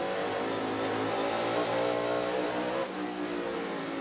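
A NASCAR Cup race car drones loudly down a straightaway with its tires spinning and the engine held short of full throttle, a sustained steady engine tone with a slight dip near the end, heard alone.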